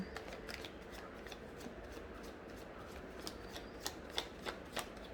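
Tarot cards being shuffled by hand during a love reading, a soft continuous riffling and rubbing with a few sharper snaps toward the end, close and fairly quiet, with no talking.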